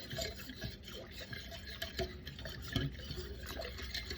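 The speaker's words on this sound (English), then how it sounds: "I'm going to give that a good whisk" An active sourdough starter is whisked with water in a bowl, producing soft, quiet liquid sloshing and faint repeated clinks of the whisk throughout.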